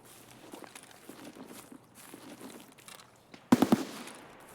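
A quick burst of sharp gunshots in Escape from Tarkov cracks out loud and close after a stretch of quieter, muffled shuffling and movement.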